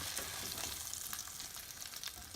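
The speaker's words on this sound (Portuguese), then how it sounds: "eu vou fazer essa mesma operação de fritar as cabeças e as cascas do camarão" Shrimp heads and shells fry in hot oil for a fideuà, giving a steady, close crackling sizzle that carries on evenly without any talking.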